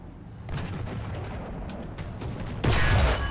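A tank cannon fires in the War Thunder video game, a sudden loud boom near the end that follows a steady rumble of scattered distant gunfire.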